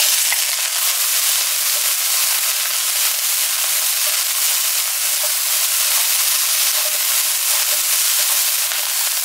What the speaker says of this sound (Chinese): 炒锅里呢加入一些油，我们先要炒一下那个香料，油热了之后就倒入我们刚才准备的香料